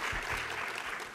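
Audience applause at an ICT conference opening ceremony after a vice minister's address, a dense steady burst of many hands clapping with no voices.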